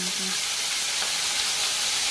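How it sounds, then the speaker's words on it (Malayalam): Onions and curry leaves sizzle and crackle steadily in a hot pan, a close, constant hissing fry with no pauses. "അത് ചട്ടി ചൂടായതിന് ശേഷം ഉള്ളിയും വേപ്പിൻ്റെലും കൂടെ ചേർത്ത്."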